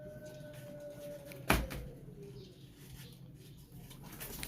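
Soft, low pigeon cooing murmurs in the background, broken once by a sharp click, with quiet ambient noise around it.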